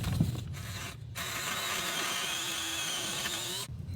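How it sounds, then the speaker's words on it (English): A power drill whirs steadily drilling a hole through a wall for running wires, close and loud, starting and stopping briefly at the beginning before a sustained run that cuts off near the end. "I'm gonna drill my hole right here."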